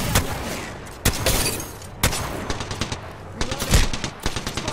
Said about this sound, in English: He's fucking shooting at me.